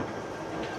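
London Underground train standing at a platform, a steady broadband rumble and hiss filling the short stretch at even, fairly low loudness with no distinct events.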